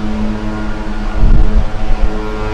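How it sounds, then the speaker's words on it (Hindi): A deep, low cruise ship horn sounds briefly in fog during a sea storm, over a steady engine drone and rumbling wind, loud and close. "बजर था, या वो हॉर्न कह लें शिप का"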